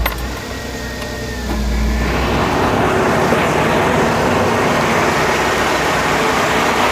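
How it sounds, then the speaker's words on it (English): The radiator fan of a Nissan Maxima makes a loud racket: a low hum gives way to a steady, roaring mechanical whir that holds for several seconds close up. "I could not believe the racket that was coming from the radiator fan."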